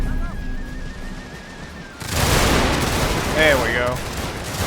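Troops firing musket volleys in a Total War battle, a sudden dense burst of gunfire halfway through that keeps crackling loudly, with someone talking over it.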